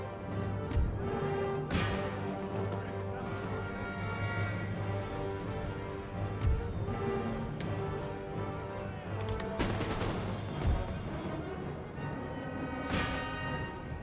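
Total War: Empire battle audio with continuous musket volleys and booming artillery fire under a steady din of battlefield noise. A few sharper, louder blasts stand out across the stretch.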